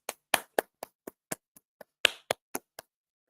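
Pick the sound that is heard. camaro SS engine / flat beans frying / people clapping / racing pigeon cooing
people clapping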